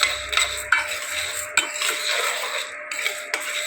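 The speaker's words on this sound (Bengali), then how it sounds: "শুকনো ফ্রাই প্যানে সাবুটাকে দিয়ে দিলাম" Dry sago pearls stirred in a dry frying pan for light roasting, giving close, light scraping and clinking of a utensil against the pan with a few sharper taps, no talk.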